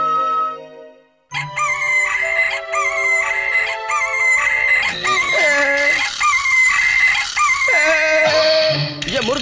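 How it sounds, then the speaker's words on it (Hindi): Cartoon rooster crowing in an animated Oggy and the Cockroaches episode: a quiet moment cut off by loud, repeated cock-a-doodle-doo calls with clucking, stylized and close, running for several seconds. "ये मुर्गा कहाँ से आ गया?"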